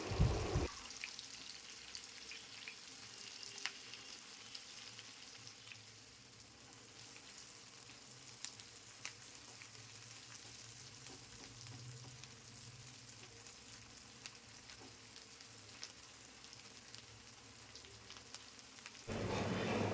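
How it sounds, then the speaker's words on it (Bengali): Garlic, onion and green chili frying lightly in oil in a pan: a soft, continuous sizzle with fine crackling that holds steady for nearly twenty seconds, fairly quiet and with no voices. "এখন তেলের সাথে রসুন, পেঁয়াজ, কাঁচা লঙ্কা হালকা করে ভেজে নেব।"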